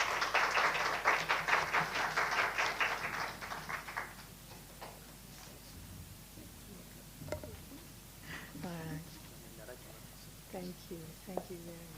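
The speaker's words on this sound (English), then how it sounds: "Big round of applause for our speaker tonight." Seminar audience applauding a guest speaker at the podium, dense clapping that lasts about four seconds and fades. Quiet room noise follows, with a few taps and faint speech.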